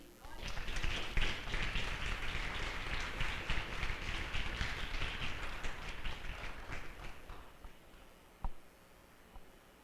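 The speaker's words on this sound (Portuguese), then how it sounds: "Palmas para ele." A church congregation applauding, a sustained burst of dense clapping that swells quickly, holds for several seconds and then tapers off, with a few stray claps at the end and a voice speaking over it.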